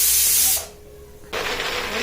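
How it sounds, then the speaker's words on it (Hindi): A pressure cooker boiling chickpeas releases loud steady hissing steam, which cuts off abruptly into quiet for about a second and then resumes at a slightly lower level. "तो प्रेशर कुकर में मैंने चने उबालने के लिए रख दिए थे।"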